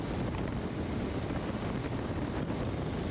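Steady roaring wind buffeting a rider with an open helmet visor on a 2023 Harley-Davidson Low Rider ST motorcycle at highway speed, loud, continuous and close, with no talking.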